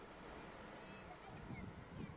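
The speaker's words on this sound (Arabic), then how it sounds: "دخول مياه البحر من تحت الصخور" Sea water surges in under rocks into a seaside cave, a faint continuous wash of surf with soft swells and a windy rush, no clear talking.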